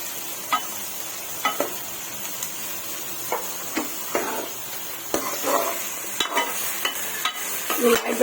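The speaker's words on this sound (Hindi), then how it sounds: "ये प्याज डाल रही हूँ मैं, ये लाइट ब्राउन होने तक इसको फ्राई करेंगे हम।" Sliced onions sizzle in hot oil in a pan, frying toward light brown, with a steady hiss under repeated stirring clinks and scrapes from a spoon, close up.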